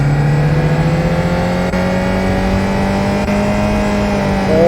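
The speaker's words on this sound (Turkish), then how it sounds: "Biz dip devire kadar vurayım mı bakalım ses nasıl değişecek?" A Ford Transit mod in Euro Truck Simulator 2 revs hard toward redline, its loud engine drone holding a steady rising pitch with a brief dip mid-way, alone with no talk.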